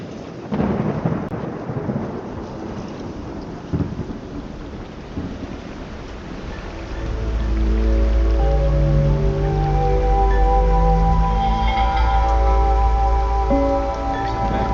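Steady rain patters loudly while heavy rolling thunder rumbles and builds, the deep low roar filling the second half of the storm beneath the constant hiss of falling water.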